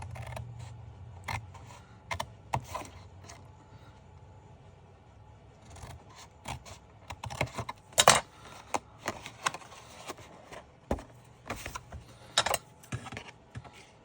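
Scissors snip cardstock along score lines for a fun fold card, making quiet, close, irregular cuts and rustles over a faint background hum.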